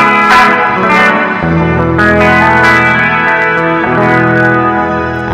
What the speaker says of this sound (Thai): ใส่รีเวิร์บด้วยใส่รีเวิร์บชิมเมอร์เวิร์บครับผม